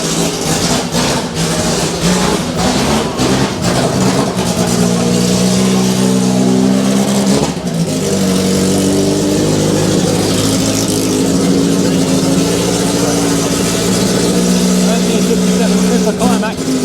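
A race car engine at a motorsport festival fires up and revs in a loud, steady drone close by, its pitch stepping up and down with throttle blips amid crowd noise.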